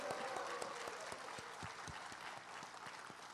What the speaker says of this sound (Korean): 더 큰 함성과 박수 부탁드립니다